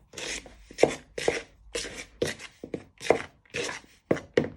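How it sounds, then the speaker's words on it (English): A knife scrapes and chops through sticky dough for jam roly-poly, mixing it in a bowl with a string of close, irregular rasping strokes and dull taps, no talking. "we're going to bind it all in with the knife to make a nice sticky"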